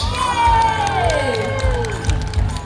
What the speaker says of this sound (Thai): ตอนนี้ขอเสียงปรบมือต้อนรับ Six Lucky Winner come up on the stage